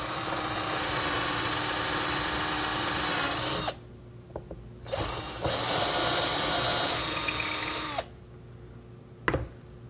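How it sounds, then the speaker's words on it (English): A power drill with a brad point bit bores shelf pin holes in two whining bursts of several seconds each, separated by a short pause, followed by a brief sharp click near the end. "which is the typical depth that you'll be drilling for a shelf pin"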